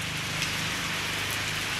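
Steady rain falls outdoors where a sand loader machine is under repair, a continuous close hiss of drops on surfaces with no voices.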